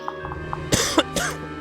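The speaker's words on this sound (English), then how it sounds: "I have this terrible cough right now." Person coughing close to the microphone, two harsh coughs in quick succession over a steady background hum.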